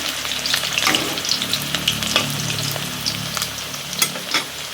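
Potatoes fry in hot oil in a pan for a village-style mutton curry, a steady close sizzle with scattered stirring scrapes and crackles running throughout, with no talking.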